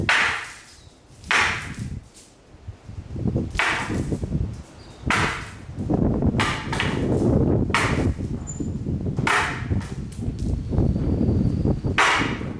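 A farmhouse table frame is struck repeatedly to distress it, giving sharp, loud wooden smacks and clangs in uneven bursts, close by, roughly a dozen hits over the span.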